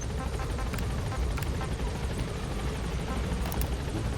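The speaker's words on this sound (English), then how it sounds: "You have to take a helicopter to it." A helicopter in the Metal Gear Solid V video game thrums with a loud, continuous rotor roar and faint rhythmic blade chop, steady throughout with no talking.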